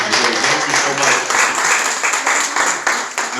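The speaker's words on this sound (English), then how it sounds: "Let's give our hostesses a hand clap also for serving." A holiday brunch crowd claps for the hostesses at a clergy council gathering, steady dense applause from many hands filling the room for several seconds, loud and continuous throughout.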